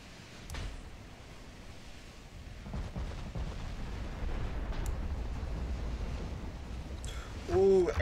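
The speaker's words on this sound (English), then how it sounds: "Ooh, ammo detonation." An ammunition detonation on a battleship in the naval video game Ultimate Admiral Dreadnoughts rolls out as a deep, sustained rumbling blast that swells louder near the end, with a brief voice at the close.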